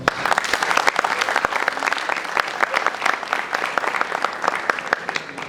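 Audience at a literary festival panel claps for a club representative, crisp individual hand claps standing out within steady, fairly close applause lasting several seconds.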